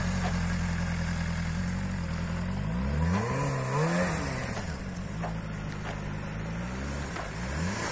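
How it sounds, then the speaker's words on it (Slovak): A learner rider's motorcycle engine idles steadily during a riding lesson, then revs up and down in a rising and falling sweep before settling back to a low, even hum. "Zvuk chcem počuť, že tú motorku ovládáš."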